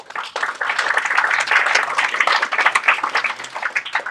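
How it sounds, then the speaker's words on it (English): A round of applause from attendees at a Department of Energy and Environment public session, fairly close and lively with individual claps standing out in an uneven patter that carries on steadily without any voices. "I'll give you a round of applause for leaving us."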